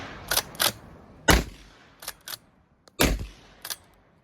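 A Winchester 1887/1901 lever-action shotgun fires several sharp, loud blasts, each followed by the quick metallic clack of the long lever being worked, in an uneven rhythm with pauses between shots.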